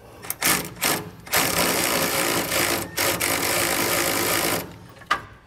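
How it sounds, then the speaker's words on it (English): A ratcheting wrench tightens bolts on a B&W Companion sliding fifth wheel hitch in a Ram pickup bed, giving close, rapid buzzing clicks in several short bursts separated by brief pauses. "a ratcheting wrench would work well here, but go ahead and tighten these back ones down"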